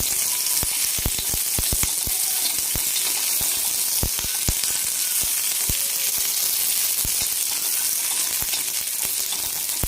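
Green chillies roast in a hot pan for green chilli amti, a loud, continuous sizzle dotted with sharp crackling pops throughout, no voices.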